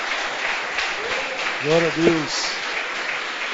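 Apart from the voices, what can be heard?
congregation clapping hands in church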